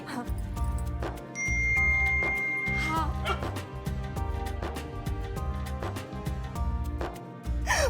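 Phone message notification dings chime several times over a steady rhythmic music bed, bright and clear.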